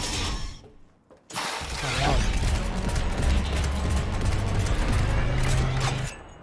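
Rapid bursts of Cyberpunk 2077 gunfire and crashing effects fill the scene after a brief quiet gap, dense and loud with continuous clatter.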